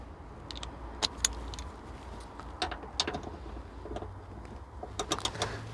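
A 14mm wrench working rear strut nuts on a Mitsubishi 3000GT/GTO makes light metallic clicks and taps in irregular bursts, close but fairly quiet over a low background hum, with no talk.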